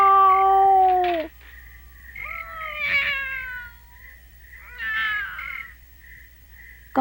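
A voice imitating a cat, drawing out several long, wavering meows with gaps between them, loud and close, in a cartoon setting.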